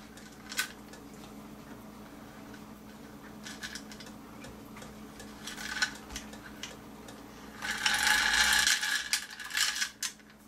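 A cuckoo clock mechanism is wound by hand, giving scattered light metallic clicks and ratchet ticks, then a denser burst of rapid clicking near the end, all fairly quiet and close.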